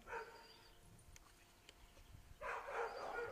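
Belgian Malinois dog heard faintly at some distance, with short yips and whimpering sounds in two bursts at the start and end, separated by a quieter stretch of light background noise.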